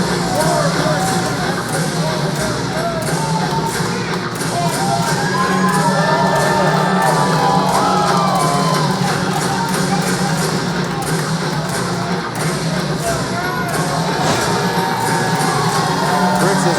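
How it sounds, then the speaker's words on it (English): Wrestling crowd at an OVW show roars and cheers continuously, with shouts, whoops and high children's yells rising over a dense, loud wall of noise that holds steady throughout. "Crowd cheering on the War Machine"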